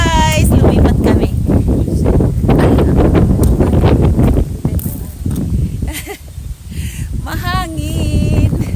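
Heavy wind buffets the microphone in loud, rumbling gusts during an outdoor fishing trip, easing briefly midway, with faint voices and bird-like chirps partly buried beneath.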